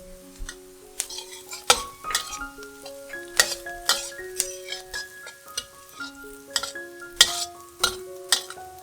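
Vegetarian mutton being stir-fried in a pan: repeated metallic clinks and scrapes of a utensil against the pan in an uneven rhythm, with a faint sizzle beneath.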